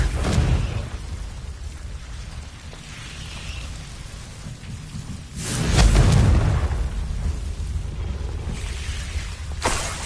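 Confringo fire spells explode in Hogwarts Legacy, two booming blasts swelling over a constant rumbling, rain-like noise, the first around midway and a sharper one near the end.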